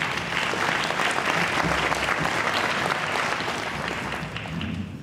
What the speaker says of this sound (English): Let's give one more round of applause for our sponsors of this event